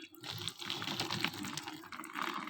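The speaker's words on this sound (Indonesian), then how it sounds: "Jadi kita siram nih airnya" Water poured over moss growing medium for ornamental plants, a steady close splashing and trickling soak with no talk.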